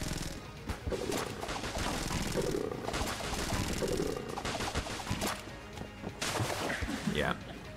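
Rapid gunfire in the video game Enter the Gungeon during a boss fight, bursts of shots running under someone talking over it almost continuously.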